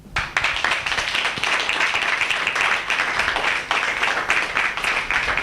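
A room full of people applauds in a steady, dense burst of clapping that starts abruptly and carries on evenly at close range, with no voices over it.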